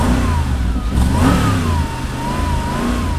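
Mercedes-Benz SLR McLaren 722S Roadster engine, AMG-built, running loud and close with a deep, steady roar that swells in a couple of brief revs and then settles.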